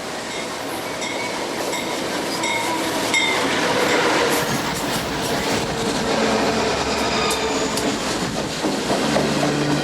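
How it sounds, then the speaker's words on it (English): A train rumbles steadily past at close range on the Gulf Coast, with continuous rolling wheel noise, rhythmic clacking and occasional metallic squeals, loud throughout. "You stop at a crossing or for a train to go by, another train to go by"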